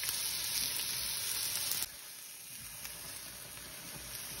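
Red onion sizzles in olive oil in a frying pan, a close bright crackling hiss that suddenly drops to a softer steady sizzle.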